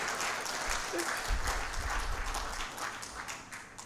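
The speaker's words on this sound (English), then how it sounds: "Would that encourage you to clap harder?" Audience applause at an official launch event in Uganda: a broad, steady wash of clapping from a crowd that holds at an even level throughout.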